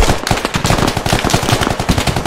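A light machine gun fires in the tactical shooter Squad, rapid loud bursts of close shots in an even stuttering rhythm throughout.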